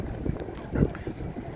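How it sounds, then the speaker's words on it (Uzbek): Wind gusts outdoors across the open square by the Sayyid al-Shuhada mosque near Mount Uhud, a low, rough buffeting rumble with uneven surges, close to the microphone. "Shamolning ovozi eshitilayotgan bo'lsa xafa bo'lmaysizlar endi."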